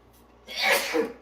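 A single sneeze, fairly close and loud, rising from near silence and trailing off.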